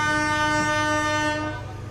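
Serayu passenger train departing Manonjaya station in Indonesia, sounding a loud sustained horn blast that fades out near the end of the clip.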